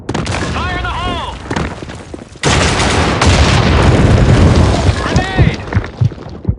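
Grenade blasts boom close and loud amid gunfire, a heavy burst erupting midway into a sustained roar, with shouted voices heard over the chaotic battle noise.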